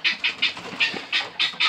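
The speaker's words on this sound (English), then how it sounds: "This goose has lost its gaggle." A goose on a homestead honks about seven times in a steady rhythm, close and fairly loud, each call short and nasal with brief gaps between.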